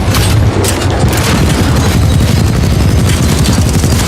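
Gunfire and explosions in the video game Titanfall 2 roar loud and dense throughout, with a continuous booming low rumble and rapid crackling bursts and no pause.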